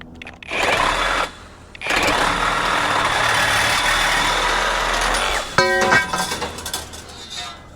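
A Hercules 20v brushless reciprocating saw buzzes in a short burst, stops, then runs in a long continuous cutting stretch before sharp clattering knocks as the cut finishes.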